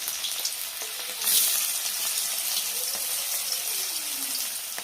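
Boiled carrots and beans fry in oil in a wok, giving a close, continuous sizzling hiss that swells suddenly for a moment and then settles back to a steady crackle.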